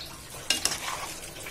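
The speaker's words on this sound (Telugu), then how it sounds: "గసగసాలు జీడిపప్పు గుండ పేస్ట్ ఇలా కలుపుకోవాలి" Poppy seed and cashew paste stirred into a country chicken curry, a short burst of close sizzling with two quick spoon scrapes against the pan.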